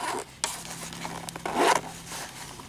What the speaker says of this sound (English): You have double pull zippers.